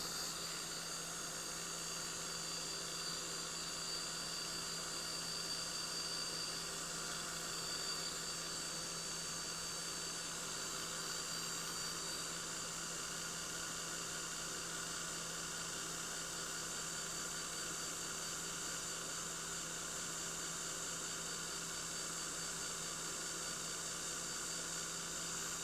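A small craft heat dryer blows on paint, giving a constant whirring hum with a high whine that runs unbroken and fairly quiet throughout, with no talking.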